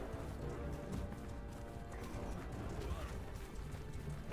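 A horse gallops in a castle attack in Mount and Blade II: Bannerlord, its hoofbeats a steady, continuous clip-clop under a constant battle din.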